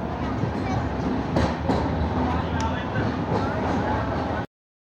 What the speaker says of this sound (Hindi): ट्रेन आ चुकी है धौलपुर जंक्शन, प्लेटफॉर्म नंबर 1 पे